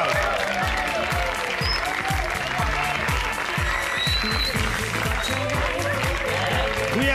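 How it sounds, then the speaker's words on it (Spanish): Pageant audience applause carries on steadily at close range while music with a pulsing rhythmic beat plays underneath, and a few scattered voices rise over the clapping. "Sí, fuerte el aplauso."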